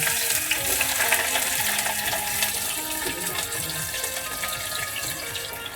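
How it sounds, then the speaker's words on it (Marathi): Onion fries in hot oil with bay leaf, cinnamon, cloves and black pepper for a mutton curry, a steady close crackling sizzle that holds throughout with faint stirring movements. "आपण कांदा टाकलेला आहे कांदा पूर्णपणे हलवून घेऊया"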